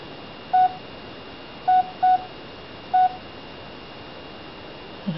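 Mobile phone keypad tones while the volume is turned down: four short, clear beeps at uneven intervals over a quiet hiss, with no one talking.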